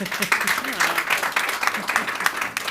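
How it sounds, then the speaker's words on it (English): A small live audience at a design podcast recording gives a short burst of clapping, fairly close, with voices mingled in. "Let's have a round of applause."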